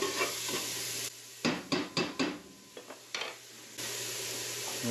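A spoon stirs homemade marinara sauce in a pot as vinegar cooks off, giving a few quick scraping and clinking strokes between stretches of steady bubbling sizzle, close by and fairly quiet.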